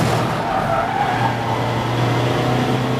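750 Motor Club TT TDI race cars lap Silverstone Grand Prix circuit, engines droning loudly and steadily with a sustained motor hum and tire noise throughout.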